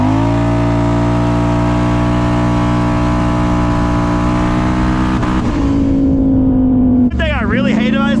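A four-wheeler ATV with a new belt and clutches, governed at 50 mph, accelerates hard: a loud, steady engine drone climbs in pitch, then shifts sharply near the end, with talk over it.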